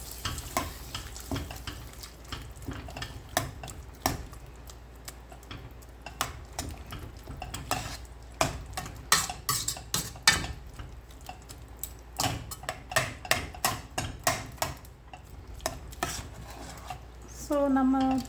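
A spoon stirs yellow pumpkin kootu in a pan, making repeated close scraping clinks and taps in an irregular rhythm that go on throughout, with a brief tonal beep at the end.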